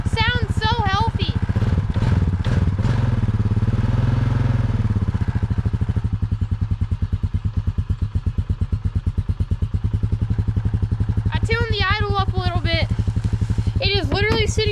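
A Honda Rancher ATV engine, run after six years abandoned, idles steadily with a low, even putter throughout, and someone talks over it at the start and again near the end.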